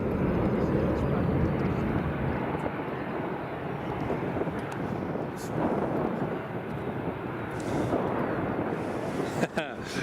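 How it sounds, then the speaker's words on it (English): A KLM airliner taxis at Edinburgh Airport, its engines giving a steady broad roar mixed with wind buffeting on the microphone, continuous and moderately loud throughout. "There's the KLM just taxiing along."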